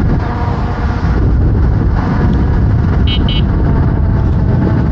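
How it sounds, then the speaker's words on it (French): Two short, high horn beeps from an 8000W electric scooter sound in quick succession over a loud, constant rush of wind and road noise while riding. "Oui, j'ai un klaxon."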